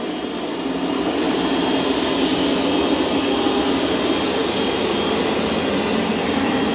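A Roborock S8 robot vacuum and mop runs across the floor with a steady, loud whirring hum that holds unchanged throughout, no voices over it.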